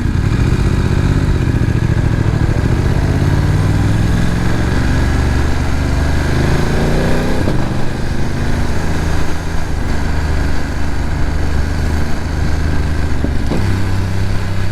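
A 2024 BMW F900R motorcycle engine runs steadily up close, a loud continuous drone with a low throbbing note that rises and settles as the revs change, with no voices.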